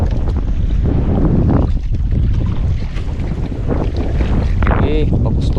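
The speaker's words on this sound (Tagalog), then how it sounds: "Grabe lakas na ng hangin." Strong wind buffets a small boat at sea during fishing, a loud continuous roar and rumble of gusts against the microphone with water sloshing underneath.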